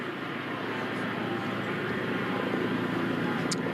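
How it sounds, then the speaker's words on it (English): Helicopters hover over a marathon finish line, making a continuous broad rotor and engine drone that stays steady overhead while voices talk over it. "Helicopters overhead."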